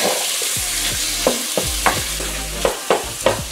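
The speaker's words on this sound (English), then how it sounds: "So here we have our Italian sausage, just breaking it up and getting it all nice and brown." Italian sausage sizzles steadily in a pan while a spatula breaks it up, producing a string of sharp scraping knocks over the continuous frying hiss. No one speaks.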